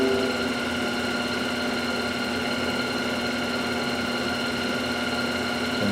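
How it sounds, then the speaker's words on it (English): A lathe turns while a V-groove tool cuts a very small groove a few thousandths deep into a graphite piston, producing a steady, loud machine hum with a constant tonal whine and no pauses. "I've switched to a V-groove tool here, which you might not be able to see, but we're just going to make a very small groove in here"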